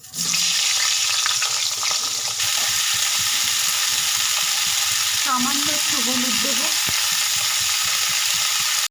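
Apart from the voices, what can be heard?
cauliflower frying in oil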